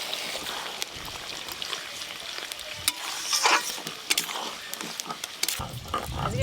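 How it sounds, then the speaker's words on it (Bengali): Chana dal boiling in a pot, with soft irregular bubbling and popping, quiet and close with some faint stirring and kitchen clatter. "ডালটা খুব সুন্দরভাবে গুটগুট করে ফুটছে।"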